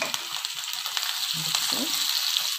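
Onions with a pinch of turmeric fry in a pan over cumin, giving a steady close sizzle with faint stirring scrapes and a few clinks.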